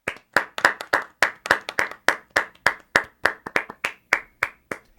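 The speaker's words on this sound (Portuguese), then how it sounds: "Uma salva de palmas para a nossa convidada de hoje, dona Camila Godinho." An audience gives a round of applause to a guest at a public talk, a steady series of sharp, evenly spaced hand claps that sound like a small group close by, with no speech over them.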